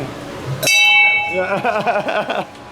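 Small bells struck by hand at Disney's Animal Kingdom: a bright metallic strike rings out, then a lively run of clinking, chiming hits follows close by for about two seconds.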